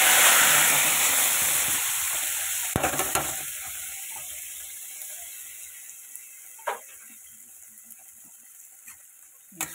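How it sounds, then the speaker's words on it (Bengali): Flour dry-roasting in a pan after a dried red chilli tempering, giving a steady soft sizzle and scrape with a few sharp clicks of a spatula, close by, with no talking. "আটাটা একদম শুকনো আঠা আঠা হয়ে যাবে, এটা ভাজতে ভাজতে।"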